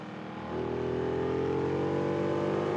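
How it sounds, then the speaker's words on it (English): A race car accelerates hard down the start-finish straight of the Kyalami GP circuit, its engine note climbing steadily and loudly after a brief lower stretch, heard close and continuous with no talking. "it's simply a matter of mashing the throttle once again for the blast down the start-finish straight"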